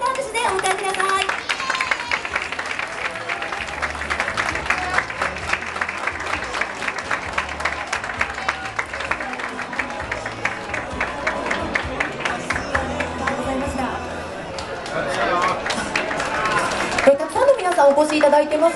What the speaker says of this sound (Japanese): 皆さん大きな拍手でお迎えください。